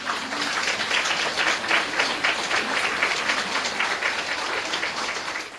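An audience of meditation listeners breaks into sustained applause, many hands clapping densely and evenly for several seconds, loud and close, fading slightly at the end.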